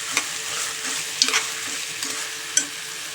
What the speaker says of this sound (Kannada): ಈಗ ಇದಕ್ಕೆ ನಾವು ನೆನೆಸಿಟ್ಕೊಂಡಿರೋಂಥ ಸಿರಿಧಾನ್ಯದ ಸಾಮೆ ಅಕ್ಕಿನ